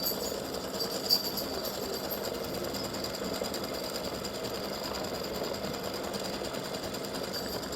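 An embroidery machine stitches a yellow egg shape for a free-standing lace Easter egg gnome, with a steady, continuous mechanical chatter throughout and no voices.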